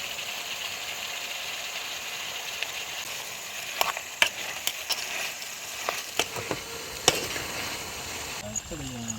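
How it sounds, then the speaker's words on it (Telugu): Chicken with turmeric and masala cooking in a pot at a night campsite in dense forest, a faint steady sizzle with scattered sharp clinks and scrapes of stirring. "మా వాళ్ళు అయితే చూడండి చికెన్ వండేశారు"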